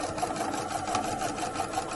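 A sewing machine runs a steady, continuous line of stitching down the center of a strip of tape on a fabric flower for a holiday sewing project, the motor's even whir close and alone.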